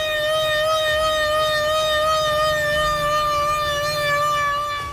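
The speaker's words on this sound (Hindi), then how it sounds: "सायरन बजाकर लोगों को होशियार किया गया।" A loud, steady flood warning siren wails on a sustained, slowly wavering tone during heavy rains, filling the whole stretch without any talking.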